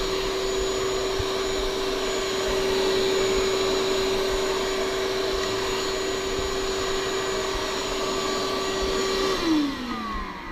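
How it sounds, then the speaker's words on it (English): A workshop vacuum cleaner runs with a loud, steady whine for about nine seconds, then winds down as the motor shuts off near the end. "Use the vacuum."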